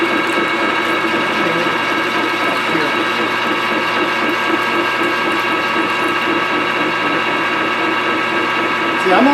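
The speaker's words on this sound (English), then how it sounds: "I'm just going to engage the power feed." A machine's power feed runs with its gears engaged while a tapping-machine part is being machined, a steady, loud mechanical whirr with a fine ratcheting clatter that continues unbroken from start to finish.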